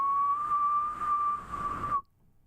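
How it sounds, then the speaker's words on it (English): A person whistles a steady, sustained tone for about two seconds, loud and close. The note holds nearly level, then cuts off abruptly into near silence. "No, I'm whistling."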